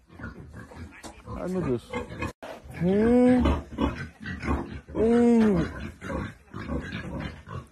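A pig grunts and squeals in woodland, two loud drawn-out calls between shorter snorts, while someone speaks briefly nearby.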